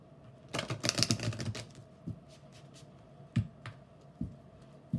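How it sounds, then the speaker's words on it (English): A deck of tarot cards is shuffled up close, giving a quick burst of riffling flutter followed by several soft, scattered taps and clicks in a quiet room. "One more shuffle."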